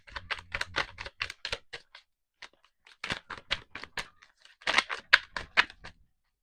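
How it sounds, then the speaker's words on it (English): Tarot cards being shuffled by hand, a close series of quick crisp riffling and flicking bursts in two rapid runs separated by a short pause, with no talking. "I'm gonna do one more shuffle"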